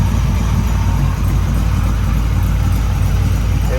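A 1968 Camaro V8 idles with chambered exhaust, heard from the front under the open hood: a steady, loud, low rumble with no breaks and no talk.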